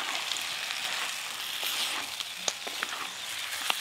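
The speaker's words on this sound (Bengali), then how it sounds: "ভেজে রাখা মাংস দিয়ে দেব" Pre-fried chicken pieces added to sizzling masala for chicken kosha, a continuous hiss of frying oil with a few faint clicks and spatters, steady and close, without talk.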